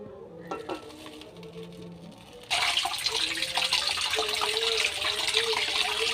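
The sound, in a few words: draining water from boiled chow mein noodles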